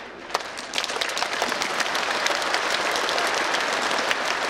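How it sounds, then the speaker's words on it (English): Rapid, loud hand clapping fills a room at a kick-off event, with dense, fast claps merging into a continuous applause-like roar that stays strong for several seconds. "I clap really fast, really loud 10 times."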